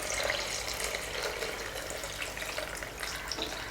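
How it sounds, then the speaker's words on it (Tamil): Water is poured into a pan of sautéed onions while making salna, a continuous close splashing and hissing pour that stays fairly steady for a few seconds, with no talking. "இப்போ இதில் நம்ம தேவையான அளவுக்கு தண்ணி சேர்த்துக்கலாம்."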